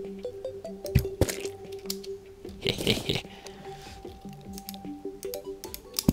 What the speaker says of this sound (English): Gonna shoot that slime over there.